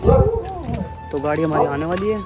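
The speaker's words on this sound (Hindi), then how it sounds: "कुत्ता भौंक रहा है, क्यों भौंक रहा भाई, मत भौंके।" A dog barks in short bursts in an Indian village while someone talks steadily over it, the barking partly buried under his voice.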